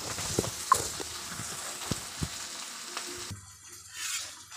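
Chillies and onions fry in a pan with a steady, hissing sizzle while a spoon stirs and knocks against it in sparse close taps, then the sizzle cuts to quieter background sound near the end.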